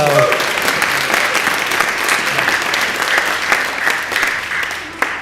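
Audience applause fills a Thanksgiving church service, a dense steady wash of clapping from a crowd that holds for about five seconds and tapers slightly near the end.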